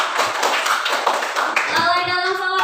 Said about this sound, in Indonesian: Tepuk tangan dulu untuk pertanyaannya tadi.